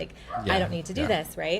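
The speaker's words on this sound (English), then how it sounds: "Sorry if you can hear my dog barking." A dog barks in short bursts in the background, partly masked by a person talking closer to the microphone.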